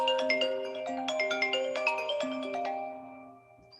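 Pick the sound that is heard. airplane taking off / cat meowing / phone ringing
phone ringing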